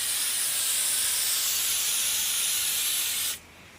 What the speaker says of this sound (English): So I need a little bit of basting spray.